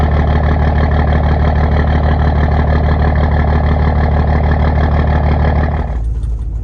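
A 1000HP Cummins diesel idling with a misfire, a loud, close, rough rumble with an uneven loping pulse that holds steady, then drops away abruptly near the end.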